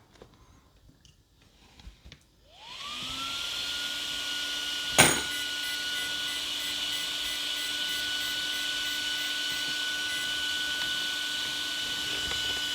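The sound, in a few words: RC car running full throttle and reverse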